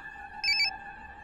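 A mobile phone rings in a Hindi comedy film scene, giving a short, bright electronic trill of two quick pulses that rise above a steady background tone, with no talking.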